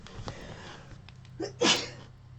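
One sharp sneeze bursts out near the end after a short breathy intake, close to the microphone in a quiet room.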